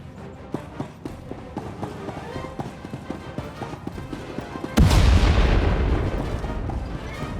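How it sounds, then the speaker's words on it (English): A starship weapon firing in the game Star Wars: The Old Republic. A run of sharp percussive shots is followed by a loud, sustained blast that roars on and then fades. "Prepare to fire weapon on my command"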